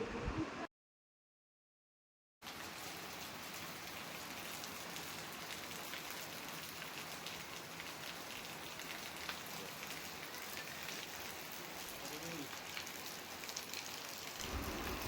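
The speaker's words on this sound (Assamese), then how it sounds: "সন্ধিয়া সময়ত ইমান ধুনীয়া বৰষুণ দিলে" Steady evening rain falls on a village home, a dense, even hiss of drops on surfaces that continues without a break after a brief silent gap at the start, with no voices.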